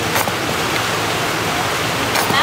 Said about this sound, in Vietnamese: Mưa tới chiều vẫn còn mưa, mưa lâm râm.